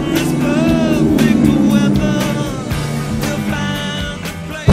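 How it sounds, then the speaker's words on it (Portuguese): A Ferrari's engine roars and rumbles as the car pulls away, a loud, close, steady low growl with rising revs over a few seconds. "É uma emoção estar dentro de uma Ferrari, sentir o prazer e o ronco de um carro desse"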